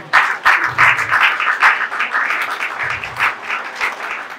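A congregation at a funeral ceremony in Kinshasa claps and applauds loudly and steadily for several seconds, with a few voices calling out amid the rhythmic clapping.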